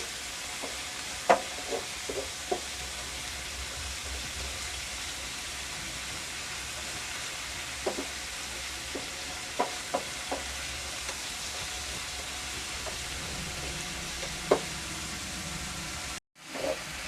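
Fenugreek leaves roast in a pan on a gas stove with a soft, steady sizzle, and scattered light scrapes and taps of stirring break through at intervals.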